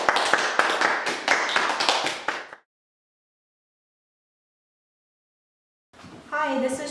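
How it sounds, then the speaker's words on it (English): A worship team audience breaks into a short burst of dense clapping, which cuts off abruptly into silence before a voice starts speaking. "Round of applause, everybody."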